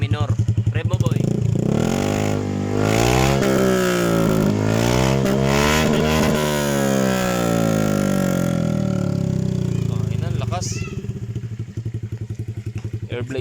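A Honda Airblade 150i scooter with no silencer and an aftermarket muffler revs loudly and close, its raw, blatting engine note climbing and falling through several sustained throttle blips before settling to a rough idle, with voices talking over it.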